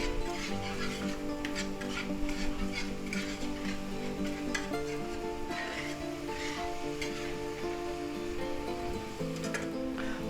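Oregano and garlic powder being stirred into a pan for creamy garlic butter pasta, a steady sizzle with scraping and rubbing strokes running continuously at moderate loudness, with no talking.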